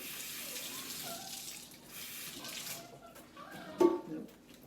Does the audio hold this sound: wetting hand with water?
yes